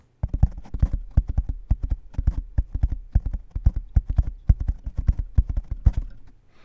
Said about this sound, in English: Yet the horse shied violently and broke into a gallop.